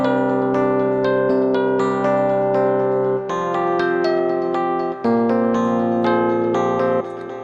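Sustained piano chords ring out with the sustain pedal held, bass notes changing under a shifting chord progression, loud and close, with notes blending and decaying into each other over several changes.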